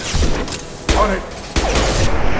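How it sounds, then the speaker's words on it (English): Gunfire in the video game Mass Effect 2: several loud, abrupt bursts of shots and booming impacts, with a sharp one near the start of each second, over steady combat noise and voice chatter. "Taking fire!"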